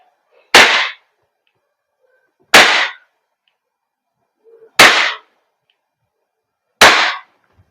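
A WE Glock 34 Gen 4 airsoft gas blowback pistol fires four loud, sharp, evenly spaced single shots about two seconds apart, with near silence between them.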